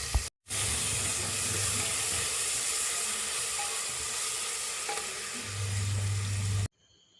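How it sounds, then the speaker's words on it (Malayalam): Sliced onions with salt frying in a pan for a Kerala beef varattiyathu, a loud, steady close sizzle with stirring that runs almost unbroken before cutting off abruptly. "സവോള പെട്ടെന്ന് വാടിക്കിട്ടാ ഉപ്പിട്ട് മിക്സ് ചെയ്ത് കൊടുക്കുക"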